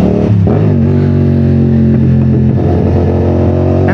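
A 450SR/SS big bike with an aggressive throttle response revs loudly and continuously, with quick throttle blips rising and falling over a steady, harmonic-rich engine drone.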